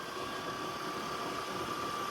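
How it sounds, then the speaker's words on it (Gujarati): A motorbike engine runs at a steady idle with a constant low hum and a faint whine, quiet and even throughout, heard with two riders setting out. "જો હું અને મૈસુરી બેન અમે બે જઈએ છીએ બાઇક લઈને"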